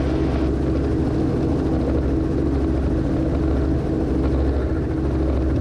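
A helicopter's turbine and rotor drone steadily and loudly at close range with no break, a dense low rumble carrying throughout.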